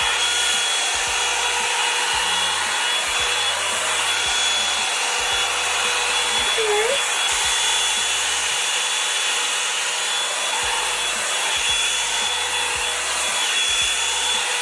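A Revlon Salon One Step hair dryer brush runs at high speed, giving a steady loud whooshing blow with a constant motor whine throughout, and a faint low thumping underneath.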